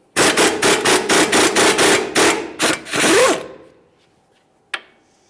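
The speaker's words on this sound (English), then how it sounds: "Make your way to the upper ball joint mounting nut. Remove this with a swivel 18mm." An impact tool works an 18mm swivel socket on an upper ball joint mounting nut, loud rapid hammering bursts in quick succession, then a short whir and a single clank after a pause.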